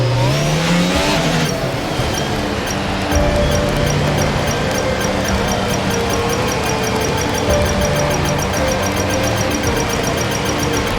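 Race cars in the F1 22 video game launch off the grid at the start of a Barcelona Grand Prix, engines revving loud and continuous with tire squeal, a dense roar of many cars sustained throughout.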